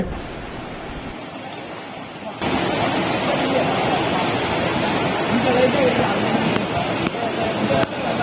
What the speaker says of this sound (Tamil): இந்த மாதிரி தண்ணி அருவி மாதிரி கொட்டக்கூடிய பாயிண்ட்டுகள் வந்து 2-3 பாயிண்ட் இருக்குங்க